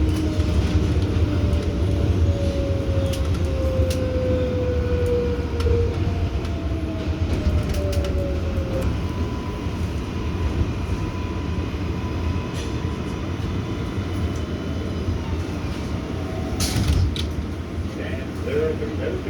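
A Bronx-bound 6 local R142A subway train runs between stations with a loud, continuous rumble, rattle and drifting whining tones, while a voice speaks over the noise.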